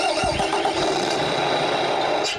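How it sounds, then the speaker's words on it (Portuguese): A miniature replica truck's engine sound starting up and settling into a steady, rumbling idle, close and fairly loud throughout the short stretch with no talking. "Escuta só o barulho do motor."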